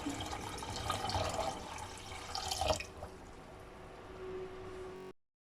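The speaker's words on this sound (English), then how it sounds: "You can now add in 4 cups of water." Water runs and splashes into a cooking pot while an Asian chicken noodle soup is being made, a lively pouring rush that stops abruptly partway through, followed by a quieter hum and faint drips.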